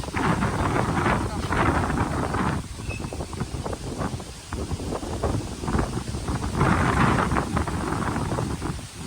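Strong wind off the sea buffets the microphone in a rocky coastal spot, a loud, continuous rumbling roar that swells and eases in gusts throughout.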